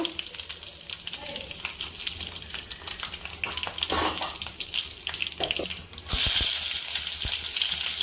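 Mustard seeds, curry leaves and dry red chillies crackle and sizzle in two spoons of hot oil in a pan on the stove, a steady loud fry with sharp pops, swelling to a brighter hiss near the end.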